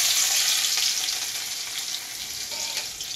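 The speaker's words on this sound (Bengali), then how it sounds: "এটা ভাজতে ভাজতে ওই তেলটা গরম হোক, সবজিটা বসাবো।" Dried chili and garlic fry in hot oil in a home kitchen, a steady, close, hissing sizzle with faint crackles that continues without a break and with no voices.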